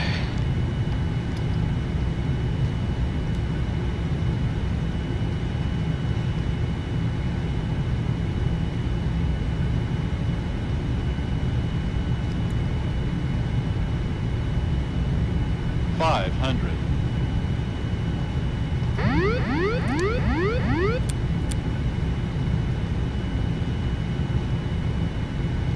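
A Boeing 787 airliner landing in a flight simulator gives a steady, loud engine drone that runs continuously, with a brief chirp and a cluster of rising electronic tones near the end.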